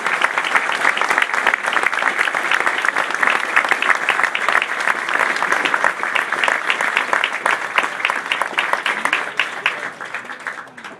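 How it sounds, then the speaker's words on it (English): Applause from the audience at an army basic training graduation at Fort Benning, Georgia, carries on steady and loud for the whole stretch, with no one speaking over it. "please join us in a round of applause for these outstanding awardees"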